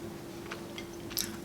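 Soft, close chewing and crunching of buttery, sticky pecan pie bars with caramel and crunchy pecans, a few quiet bites under low background hiss, with no talking.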